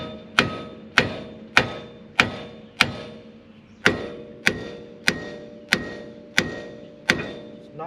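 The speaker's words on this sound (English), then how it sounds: "Take a hammer," Steady metallic hammer strikes on a Jeep Cherokee XJ ball joint to knock it loose, about a dozen evenly spaced blows ringing on metal, close and sharp with nothing else around them.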